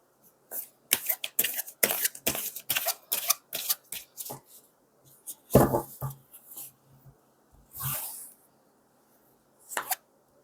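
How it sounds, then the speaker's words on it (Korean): Tarot cards are shuffled and drawn by hand during a relationship reading, giving a quick run of close, crisp snaps and papery rustles, then a few scattered flicks with pauses between them. No one speaks. "제가 마지막으로 두 분을 위한 조언의 카드를 뽑아보도록 할게요"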